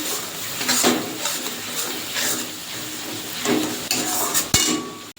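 Spices with chili powder, turmeric and salt are stirred and fried in a pan for katla fish head muri ghonto. The spatula scrapes in repeated close strokes over a steady sizzle, and a sharp metallic clank sounds near the end.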